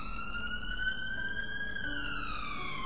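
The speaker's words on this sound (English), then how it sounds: "without the screeching of the police cars going past" Police car siren passing at night in London, a steady wailing tone that slowly bends downward as it moves off, heard from a distance over a low city rumble.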